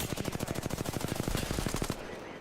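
Rapid automatic gunfire in the video game Apex Legends, a loud sustained burst of evenly spaced shots lasting about two seconds before cutting off abruptly.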